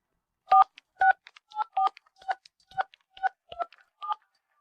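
A phone keypad sounds a series of about nine short dialing tones in a slightly uneven rhythm, clear and isolated against silence.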